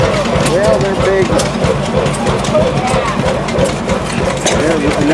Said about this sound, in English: There's another example of farm engines that you ever found out on the farm